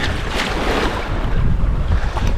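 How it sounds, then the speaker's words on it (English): Ocean waves crash and wash through the shallows of a Guernsey beach. The surf roars loud, close and continuous, with heavy wind rumble and no voices. "where these waves are crashing down."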